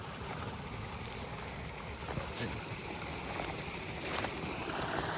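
A forest creek near a campsite in Washington rushes along in a steady broadband wash of flowing water, fairly close and continuous, with no talking.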